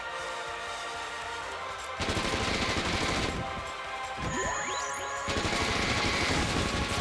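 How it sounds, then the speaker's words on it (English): Rapid video-game gunfire from the game Haunted Museum as aliens are shot, dense loud bursts of automatic shooting with sweeping electronic effects, no talk over it. "Lock and load, just shoot a bunch of aliens."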